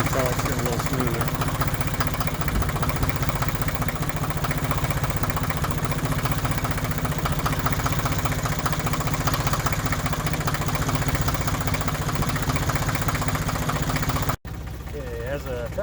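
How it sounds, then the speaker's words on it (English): A steady Ford 1910 compact tractor engine idling close by while warming up after winter storage, a continuous low rumble with a slight knocking pulse that stays even throughout, then cuts to a quieter tone near the end. "as the tractor's warming up here"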